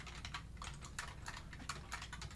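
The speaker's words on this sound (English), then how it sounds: "So just try to follow along with what I'm typing here." Quiet, steady typing on a computer keyboard during a web development coding lesson, a close run of light rapid key clicks with no talking.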